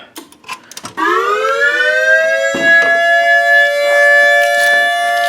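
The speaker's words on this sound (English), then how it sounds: "let's go ahead and run alert signal" A Whelen speaker siren sounds its alert signal, a steady, loud electronic tone that sweeps up and then holds at a fixed pitch with rich harmonics. It starts after a brief quiet moment and carries on unbroken to the end.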